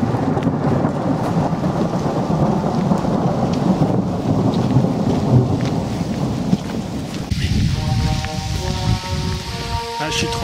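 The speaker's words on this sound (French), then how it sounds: "Ah, je suis trempé, il pleut vraiment beaucoup." A heavy thunderstorm with downpouring rain during a hike, rain drumming constantly on surfaces while thunder rumbles loudly, with faint whistling tones appearing near the end.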